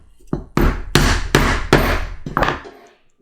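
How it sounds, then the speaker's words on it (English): Diamond hole chisels struck with a hammer to punch stitching holes in leather for a rifle sling, five sharp, loud knocks spaced roughly half a second apart, each with a short ringing decay. "I'll just punch some holes with the diamond hole chisels"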